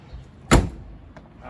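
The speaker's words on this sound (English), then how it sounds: "This little catch here acts as a screen, fly screen, so you keep the main door open" A campervan's fragile fly screen door is handled, giving one sharp loud clack followed by a fainter click, with quiet room noise around it.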